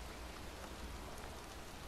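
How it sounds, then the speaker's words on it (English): Steady rain falls in a cemetery in the video game Heavy Rain, a cold, soaking downpour heard as an even, hissing patter of drops on surfaces, faint and unbroken. "It's cold. It's raining. I'm standing outside getting soaked."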